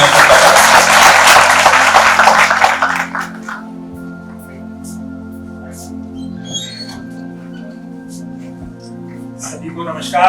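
Seminar audience bursts into loud, dense applause to welcome a speaker, fading out after about three seconds and leaving a low hum and faint room sounds.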